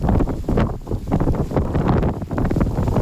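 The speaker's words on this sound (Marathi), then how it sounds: "वारा पूर्ण ढकलतोय" Strong wind on Brahmagiri mountain buffets the microphone in heavy, gusting bursts, a constant rumbling roar with no one speaking.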